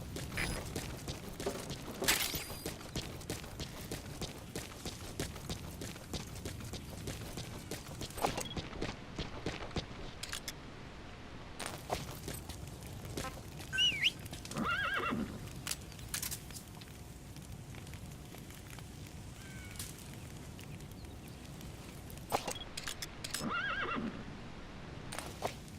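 A horse whinnies and snorts in Metal Gear Solid V: The Phantom Pain, with hooves clip-clopping and shuffling nearby, several distinct neighs rising over a continuous outdoor game soundscape.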